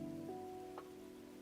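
A rain sound effect played from an alarm clock app gives a steady, soft patter of rainfall that runs evenly through the short stretch. Faint background tones sit under it and no one speaks.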